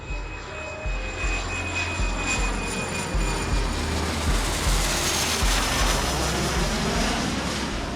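Loud, steady roar of a British Airways jet airliner's engines on takeoff from Kuala Lumpur, a broad continuous rumble with a high whine on top that holds without pause.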